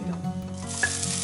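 Sliced onions dropped into hot white oil mixed with ghee and whole spices, giving a close, steady sizzle with a brief crackling burst partway through.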